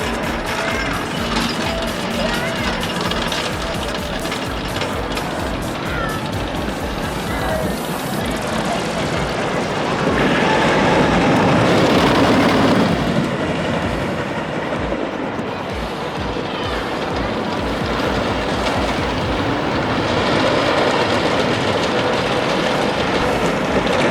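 Thunderbolt, a classic wooden roller coaster at Kennywood in Pennsylvania, rumbles and clatters along its track as a loud, sustained roar that swells midway through the ride, mixed with wind noise and distant rider sounds.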